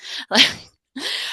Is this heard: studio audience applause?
no